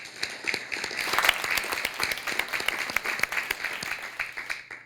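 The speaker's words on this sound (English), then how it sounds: "Let's give them a round of applause." Audience applause at a leadership awards event, steady dense clapping from a crowd for several seconds at moderate distance, sharp individual claps standing out through the wash.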